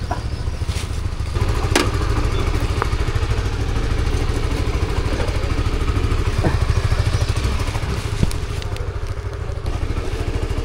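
A motorcycle engine runs steadily and close by on a rainy ride through Vietnam, a continuous low, pulsing drone with occasional clatters and thumps on top and no voices.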